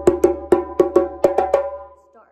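A djembe plays a quick start signal: a run of eight sharp, ringing hand strikes in a syncopated pattern, close and alone, the last ones trailing off into silence.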